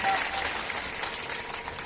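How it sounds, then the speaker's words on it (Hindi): Audience applause greeting a speaker at a political rally in Buxar, a dense, steady wash of clapping that holds loud and even throughout with no pause. "जोरदार ताली बजा करके स्वागत करिए इनका।"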